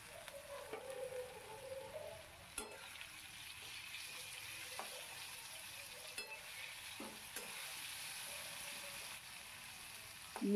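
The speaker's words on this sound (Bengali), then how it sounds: "মুগ ডালটা যেন খুব বেশি ভাজা না হয়, কাঁচা ভাব থাকবে।" Washed moong dal frying with potatoes in a pan, giving a quiet steady sizzle broken by a few sharp scraping stirs of a spatula; no one speaks.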